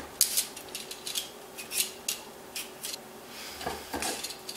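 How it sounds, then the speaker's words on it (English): Potatoes being peeled by hand for fries, a series of short scraping strokes of a peeler against the skin, close and fairly quiet, with no talking. "You want to peel away. And just try to get all the skin off"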